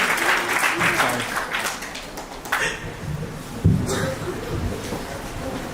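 An audience at an iftar gathering breaks into a round of applause that swells and then tapers. A voice talks over the fading claps near the end.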